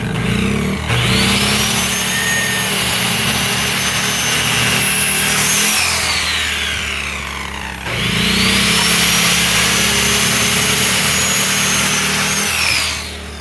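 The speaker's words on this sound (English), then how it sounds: "we're going to go ahead and square up the ends on these oak 2x6s" A power saw cuts across the ends of oak 2x6 boards on a barn build, two loud sustained cuts with a high whine, a brief dip between them, then spinning down.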